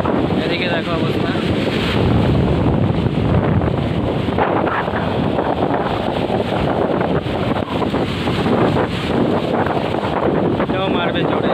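Rough sea waves crash and surge at Digha Mohana while a trawler boat approaches from afar during a heavy storm surge, with strong wind buffeting the microphone and occasional voices nearby.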